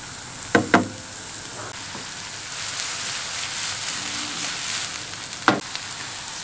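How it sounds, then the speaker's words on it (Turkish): Chopped onions sizzle steadily in a small amount of oil in a pan. The soft, continuous frying hiss is broken by a few sharp clacks of a utensil near the start and again later. "Soğanımız yumuşayana kadar kontrollü bir şekilde kavuralım"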